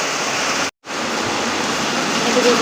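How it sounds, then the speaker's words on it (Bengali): Gusty rain at the start of the monsoon, a loud steady wash of falling water, broken by a brief full dropout near the start before the dense hiss returns and continues. "ঝাপটে ঝাপটে বৃষ্টি হচ্ছে"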